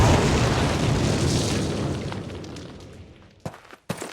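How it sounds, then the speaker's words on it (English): Explosives detonate on a cinder block wall in the World War II game Call of Duty: a loud boom that rumbles and slowly fades, followed by two sharp, brief pops near the end. "Place your explosives on the cinder block wall."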